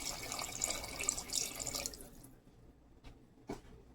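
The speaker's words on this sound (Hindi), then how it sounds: "अभी हम इसमें पानी ऐड करेंगे।" Water pours steadily into a pot of lamb curry for about two seconds, then stops, leaving a couple of faint drips and clinks.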